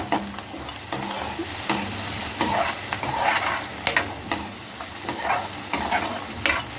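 Green chilies frying in a pan while being stirred, for a black chana dal, with a steady sizzle and repeated scraping strokes of the spoon at a close, even rhythm, no talk.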